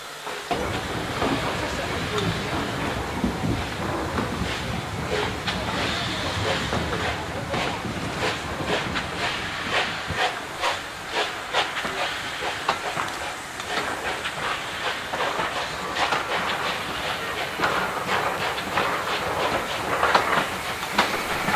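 A Mid Hants Railway steam train, hauled by a rebuilt Bulleid locomotive, runs along the line near a station. There is steady rhythmic chuffing, hissing steam and clattering wheels, loud and continuous throughout.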